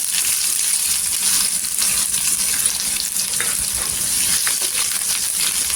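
A large onion drops into hot oil already crackling with mustard seeds and cumin, giving a steady, loud hiss that runs unbroken throughout, close up.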